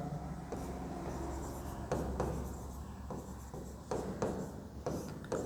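A pen writing by hand on paper during a lesson, with a soft continuous scratching and occasional taps as strokes begin, close but quiet over a low background hum.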